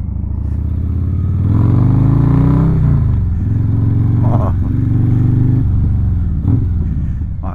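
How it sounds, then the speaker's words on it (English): A V-twin motorcycle with a stage 2 cam and Bassani exhaust rumbles loud and close, revving up to a raspy peak, then settling into a steady throb broken by a few sharp blips. "There's nothing that sounds like a V-twin with a Star 30 cam stage 2 and a Bassani exhaust."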